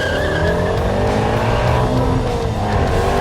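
A Ford Shelby GT350 launching at full throttle from high revs, its engine roaring loud and continuous as the pitch climbs steadily through the gears.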